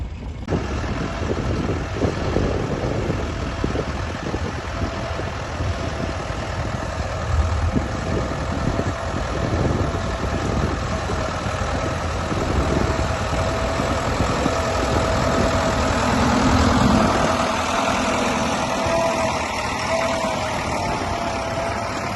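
A tractor engine drones steadily for a long stretch while ploughing a field, a rough, knocking rumble that swells slightly and fades again, with no voices.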